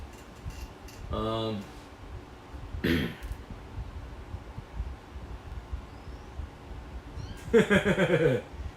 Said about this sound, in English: Kitties are going nuts.